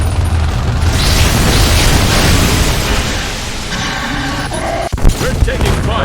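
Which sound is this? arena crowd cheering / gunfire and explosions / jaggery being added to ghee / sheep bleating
gunfire and explosions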